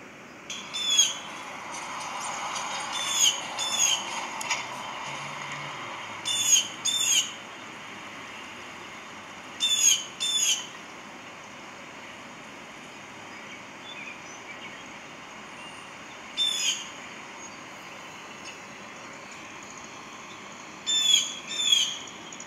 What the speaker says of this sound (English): This time, He sent three bluebirds.